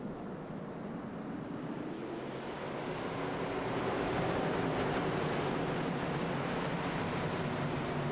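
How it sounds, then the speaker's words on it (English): Truck engines roaring together in a NASCAR truck racing game at Charlotte Speedway, a steady broad rushing drone that swells slightly louder midway and holds without a break. "Listen to the roar of them trucks."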